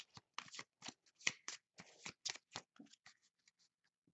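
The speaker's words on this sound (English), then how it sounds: "I'm going to stick those back in the deck and give it a shuffle" A deck of playing cards being shuffled by hand, a quick series of crisp riffling bursts close up that taper off into faint, sparse flicks.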